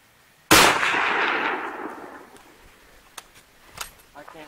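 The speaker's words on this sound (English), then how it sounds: "So I guess we're just going to shoot a few and hope we can hit one." A single loud 8mm Mauser rifle shot rings out at close range outdoors toward bricks 240 yards away and fades into a long decaying echo, followed by faint clicks and light handling noise.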